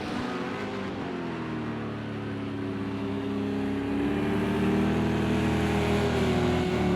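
Racing cars, including a Porsche and a Corvette, drone continuously in a Daytona sim race, with steady engine notes that rise and shift in pitch as the cars run together around the track.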